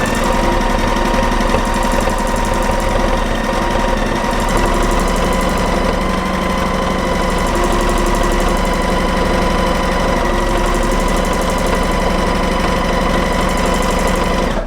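A sewing machine runs continuously during free motion quilting, with a loud, steady motor whir and a rapid, even needle rhythm, and no talk over it.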